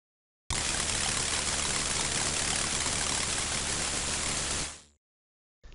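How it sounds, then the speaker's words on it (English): Shower water running in the Darkseed PC game demo, a steady hiss of spray that starts abruptly, holds evenly for about four seconds, then fades out, with no talking. "before we do that, we're going to have a shower."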